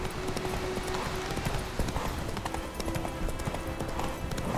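Horse hooves clip-clop in The Witcher 3: Wild Hunt video game, an even, continuous trotting rhythm heard close up over a steady background of game ambience with faint tonal music.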